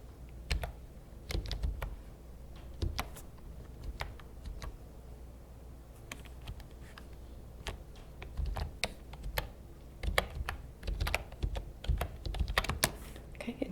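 Quiet, close clicking of typing on a computer keyboard, the keystrokes coming in irregular bursts that grow busier toward the end, over a soft room hush.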